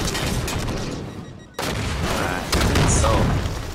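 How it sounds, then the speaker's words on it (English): Rocket explosions in Halo 5 during a capture-the-flag minigame, heavy booming blasts that fill the clip, one loud burst after a brief drop near the middle, then more rumbling detonations. "Ooh, he's got rockets!"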